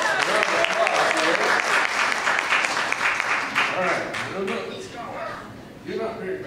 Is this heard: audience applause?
yes